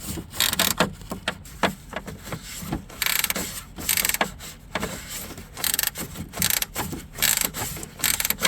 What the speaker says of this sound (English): ratchet, or the ratchet wrench. It makes it a lot easier.